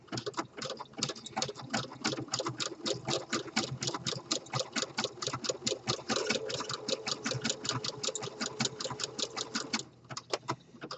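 A home sewing machine runs steadily, stitching an exposed elastic waistband into fabric, with rapid, even needle clatter close by that continues for about ten seconds before slowing briefly near the end.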